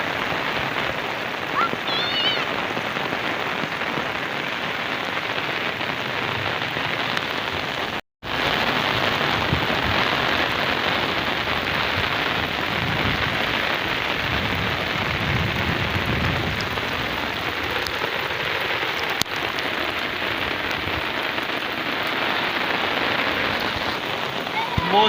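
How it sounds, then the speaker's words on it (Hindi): Heavy rain falling on farm fields with standing water, a constant loud wash of drops broken by a momentary dropout, with faint voices in the background. "अल्हम्दुलिल्लाह बारिश जो है वो अच्छी तरह शुरू हो चुकी है।"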